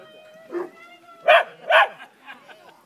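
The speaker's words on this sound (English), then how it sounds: "The new one just barked in his ear." A Newfoundland dog out with sheep gives a few loud, close barks, two strong ones in quick succession with softer yips around them, over a faint background hum.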